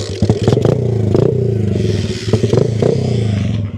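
A Honda ATV engine is kickstarted close by, giving a quick run of loud clattering, sputtering bursts over a rough, rhythmic engine rumble that fades at the end.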